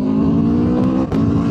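An Aprilia RSV4 1100 Factory motorcycle engine revving close up, a loud steady growl with a brief throttle blip near the end, no voices.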